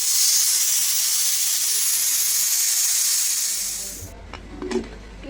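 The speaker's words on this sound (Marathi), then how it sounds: "कुकरला आपल्याला 3 ते 4 शिट्या काढून घ्यायच्या आहे" A pressure cooker on the stove cooks drumstick and lentil soup, and its weight vents a loud, sustained whistling hiss of steam. The hiss stops abruptly after about four seconds, leaving faint kitchen clatter.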